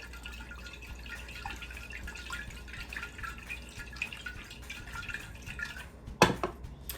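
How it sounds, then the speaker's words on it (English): Salt brine sloshing faintly inside a lidded jar, with soft liquid swirls and drips, then a sharp knock of glass or lid near the end. "I'm going to put the lid on, mix it around a little bit"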